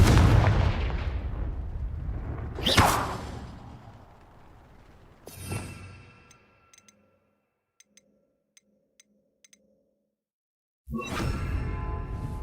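Spell blasts from the Confringo fire spell in the Hogwarts Legacy video game: a couple of loud booming bursts with swooshes, then a quiet stretch of small ticking clicks before another dense blast, with no talk.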